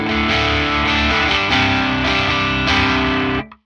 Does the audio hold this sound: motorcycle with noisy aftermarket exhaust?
no